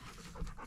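Dog panting rapidly and close up during a break on a mountain hike at Sharp Top, Peaks of Otter, a brief run of quick breathy huffs with soft background.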